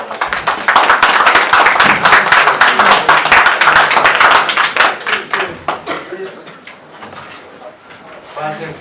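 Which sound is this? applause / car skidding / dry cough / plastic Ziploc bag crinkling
applause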